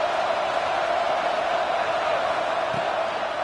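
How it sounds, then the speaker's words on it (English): A fired-up crowd at an NCAA football game, a constant roar of distant massed voices with a sustained tonal hum running under it and no individual words clear. "It's early, but this crowd is fired up. Listen to this noise here."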